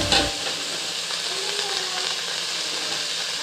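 Potatoes and amaranth leaves fry in oil and ghee for a vegetable biryani, giving a steady, close, dense sizzle and hiss that opens with a brief louder burst and then holds level throughout, with no talking.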